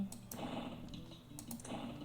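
Rapid clicks from a computer mouse that keeps double clicking, heard during an EverQuest game session, with a soft run of taps over low background hum.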